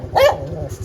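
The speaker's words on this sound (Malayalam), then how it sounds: "ഇതാണ് എലിസബത്തിന്റെ പട്ടി." A dog at a house lets out a single short, loud bark close by, with nothing else around it.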